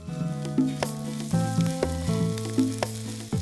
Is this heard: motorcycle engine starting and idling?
no